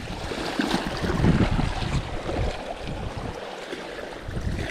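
Ocean waves wash up on a shore and over a bag soaked in the surf to keep fish fresh, a steady close rush of water with wind buffeting the microphone throughout.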